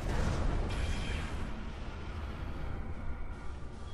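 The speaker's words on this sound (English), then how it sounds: "The heralds are firing on the portal!" Heralds firing weapons on a time portal in a sci-fi game battle, heard as a dense, continuous roar of blasts and rumbling explosions, loud and sustained for the whole stretch with a brief sharp burst near the start.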